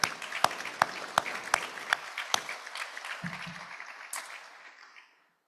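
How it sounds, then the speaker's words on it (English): A small group of Rotary Club members at a meeting in Gainesville claps, beginning with a few sharp, evenly spaced claps that swell into brief applause before fading to silence. "let's give ourselves a round of applause for that"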